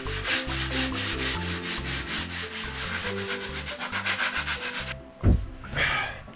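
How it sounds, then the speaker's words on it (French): Light hand sanding of a flat surface to smooth out small flatness defects, heard as a steady rhythmic back-and-forth scrubbing of even strokes, close and loud, ending in a brief knock and a few slower rubs. "c'est juste un ponçage pour enlever un petit peu les petits défauts de"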